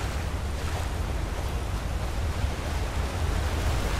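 A steady, full roar of rushing water from a waterfall in Skyrim fills the scene, loud and continuous, with no speech.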